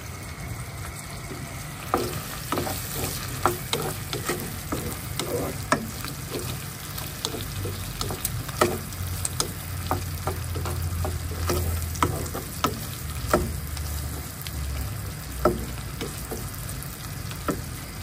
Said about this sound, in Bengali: লতি ছিল আসছি, লতি দিয়ে রান্না করছি চিংড়ি।